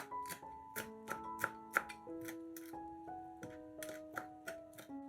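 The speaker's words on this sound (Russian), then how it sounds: "Мелко нарезаем небольшой пучок петрушки." A knife finely chops a small bunch of parsley on a board. Crisp, quiet, irregular taps repeat about a dozen times over a soft musical background, with no talking.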